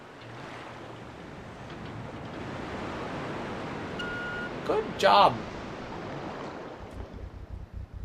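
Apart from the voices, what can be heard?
waterfall rushing water in Resident Evil 2, video game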